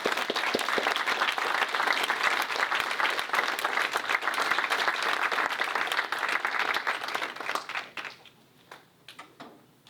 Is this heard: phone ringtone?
no